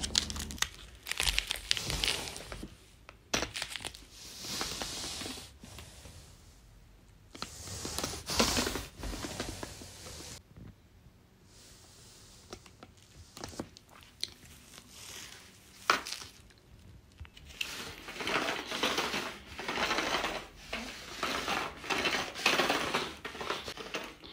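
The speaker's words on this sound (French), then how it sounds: "je vais coller derrière le scotch Nanotape pour éviter de faire des trous sur les murs" Backing film peeled from Nanotape adhesive tape for wall decor, with close, busy crinkling and crackling plastic plus tearing bursts that come and go in irregular clusters for over twenty seconds, with no talk.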